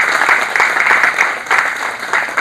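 Audience applause at a seminar on US immigration law welcoming a speaker, with loud, dense clapping from a room full of people, swelling in uneven waves and continuing throughout without talk.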